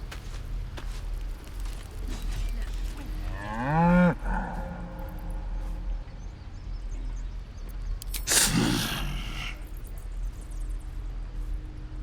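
A cow in Baldur's Gate video game gives one drawn-out moo that rises and falls, clear over a low ambient background; a sharp, noisy snort-like burst follows several seconds later.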